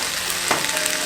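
Sukiyaki udon with green onions sizzling in a hot pan as it is stirred, a steady broadband frying hiss with one brief louder scrape midway, close and alone.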